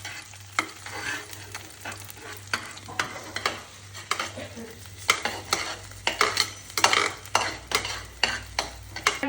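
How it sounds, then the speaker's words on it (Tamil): A spatula scrapes and taps through a pan of noodle masala frying on the stove, giving repeated close, sharp stirring clatters over a steady low sizzle. "நல்லா இப்போ கிண்டி விட்டுக்கலாம்"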